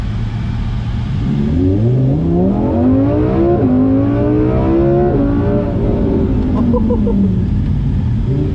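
A 1,000hp Mercedes E63S revs up close, its engine note sweeping upward and falling back in a long, loud acceleration over a steady rumble.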